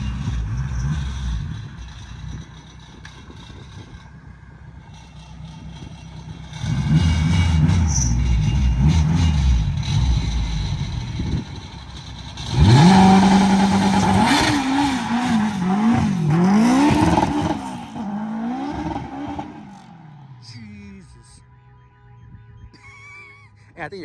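A turbocharged K20-swapped Honda Civic sleeper revs hard on a dyno, the engine note climbing and falling in loud sweeping pulls, with a sharp surge midway and people talking around it.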